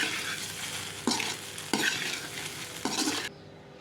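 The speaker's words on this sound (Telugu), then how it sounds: "అన్నం వేసుకొని కొంచెం మంచిగా కలుపుకుంటే" Cooked rice being stirred into a frying mixture in a pan, a continuous sizzle broken by a few sharp scraping strokes of the spoon, close and clear with no talking.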